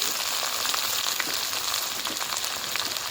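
Onions and tomatoes fry in a pan with a continuous, even crackling sizzle, moderately loud and close, with no speech over it.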